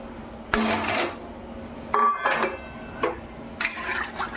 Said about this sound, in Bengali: এখন এটা আমি জলের মধ্যে ছেড়ে দিলাম